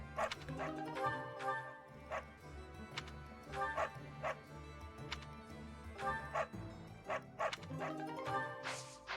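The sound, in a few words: dogs barking in video game Fire Emblem Three Houses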